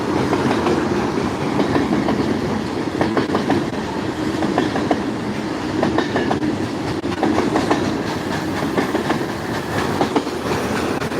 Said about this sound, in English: But that was one long train of asphalt.